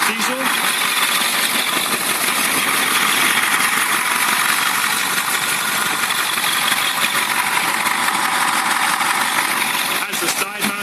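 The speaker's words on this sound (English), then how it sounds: "It's a Caterpillar 3208 diesel." Caterpillar 3208 diesel engine idling in a 1988 Blue Bird All American RE rear-engine school bus, a steady, loud, even rumble with a constant drone throughout, heard up close.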